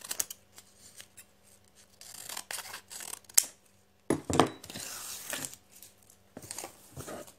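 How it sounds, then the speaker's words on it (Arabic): Scissors snip a paper dress pattern piece for a seven-year-old child's dress, with short cutting strokes coming in irregular bursts, close and quiet, separated by paper rustling and handling noise. "انا هنا راح نقص القطعة تاعي بهذا الشكل."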